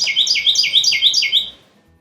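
Carolina wren singing a double-tempo variation of its song that stresses the second syllable: about six quick, bright, loud repeated phrases rolling in steady rhythm, close by, then stopping abruptly.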